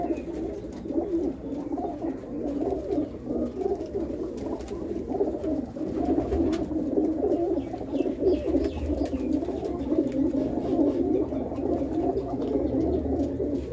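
Flying pigeons coo inside their loft, a soft, continuous chorus of overlapping low coos and rustles at moderate distance, with no talking.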